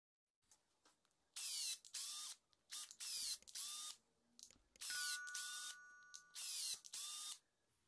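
A small power drill whirs in a series of short, high-pitched bursts, each a second or so long, with brief pauses between them, as it turns an M6 bolt to cut threads in wood.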